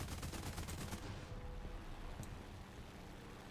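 Aircraft machine guns fire in War Thunder, a rapid rattling burst for about a second, then the roar of engine and wind carrying on at fairly loud, steady level.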